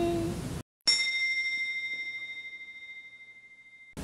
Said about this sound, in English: It sounds like you hit the metal.